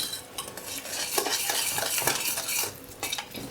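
Pancake batter of flour and milk whisked into a thin mix, a steady close scraping and swishing of utensil against bowl, continuous with small rhythmic surges and no talking.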